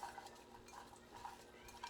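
Soft scraping and light clinking of a spoon stirring raita in a bowl, a few quiet irregular strokes, close and faint, with no talking.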